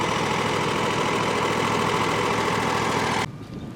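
A lawn mower engine, a mower fitted with six blades, runs steadily and loudly up close, holding a constant drone before it cuts out abruptly near the end.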